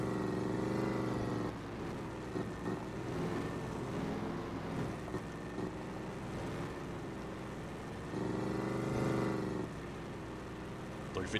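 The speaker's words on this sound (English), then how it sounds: "This thing is ungodly loud. I don't know why this truck is so loud." Loud straight-piped truck engine in Farming Simulator 25, a steady heavy drone with surges near the start and around nine seconds, running continuously under talk.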